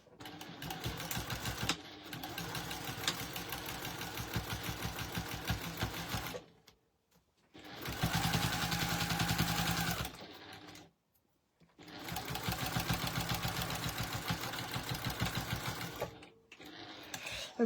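A sewing machine stitches around the edges of a crumb quilt in three long, steady runs of rapid mechanical whirring, with brief pauses between runs and no talking.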